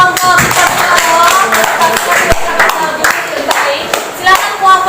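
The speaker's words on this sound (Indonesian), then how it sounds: "Tepuk tangan dulu untuk kelompok Patimura." Classroom audience clapping for a student group after its presentation in an Indonesian civics lesson, a loud close burst of many hands with scattered voices and chatter mixed in.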